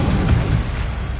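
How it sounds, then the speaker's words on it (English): Bombarda spell going off in Hogwarts Legacy, a heavy, loud low boom that holds steady and rumbles for about a second, with no talking over it. "Bombarda!"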